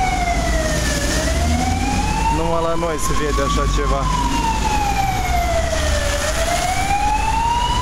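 A loud ambulance siren wails, sweeping steadily up and down over constant traffic noise, with someone speaking over it partway through.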